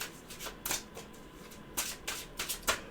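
A deck of tarot cards is shuffled by hand in several quick riffling bursts, close and crisp, with short pauses between each flurry and no talking.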